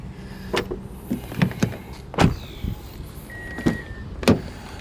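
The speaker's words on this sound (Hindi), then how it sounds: "हाँ, सनरूफ आगे से खोलता हूँ, ठीक है।" A 2025 Hyundai Santa Fe Hybrid sunroof operates inside the cabin, with a quiet motor whine under a series of sharp clicks and thumps spaced irregularly, all faint and close by with no talking.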